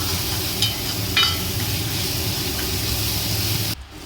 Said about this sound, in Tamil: இஞ்சி பூண்டு பேஸ்ட் போட்டு நல்லா வதக்கிக்கலாம்